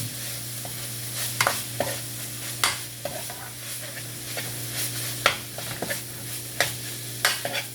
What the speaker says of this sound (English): Let that onion cook in there.